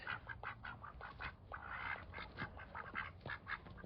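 Several ducks quack in rapid, overlapping bursts nearby, a busy continuous chorus without pauses.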